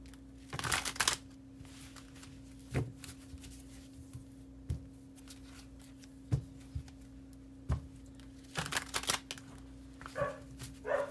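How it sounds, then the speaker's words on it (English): Tarot cards are shuffled close by in a quiet room, a few soft riffling bursts separated by sparse scattered taps and rustles. "I'm going to shuffle up real quick."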